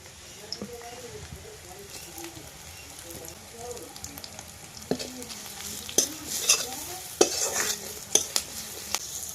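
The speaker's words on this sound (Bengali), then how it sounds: "মশলা কিন্তু বন্ধুরা ভালোভাবে কষানো হয়ে গেছে" Spice masala with salt and turmeric being stir-fried in a pan for an outdoor crab dish, sizzling softly while a utensil scrapes and clinks against the pan, growing louder and busier toward the end.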